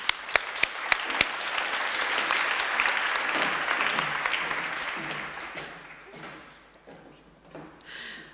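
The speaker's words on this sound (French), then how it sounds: "que vous pouvez applaudir" Applause from an audience at a young women architects' prize ceremony, with a few sharp early claps, then a steady broad clatter that thins and tapers off near the end.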